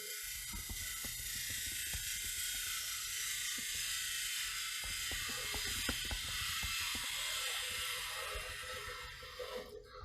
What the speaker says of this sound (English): So I'm just going to cut straight across with the gouge.